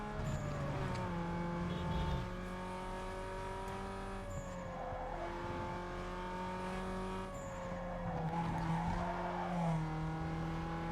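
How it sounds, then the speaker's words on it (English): A car power sliding through a circuit race in Need for Speed: Underground 2 on PS2, a sustained engine drone with shifting pitch layered under long tire squeals, steady and fairly loud with no voices. "And power sliding my way to our first of, I think, 5 circuit races here"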